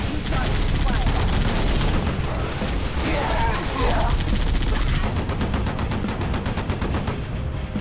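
A mounted turret gun in the Halo Reach campaign video game hammers out continuous loud rapid fire, layered over vehicle and battle noise, with a voice talking over it.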